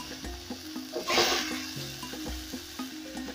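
Goat meat for a curry browns in a pan, a soft steady sizzle and frying crackle with a brief louder burst of spitting partway through.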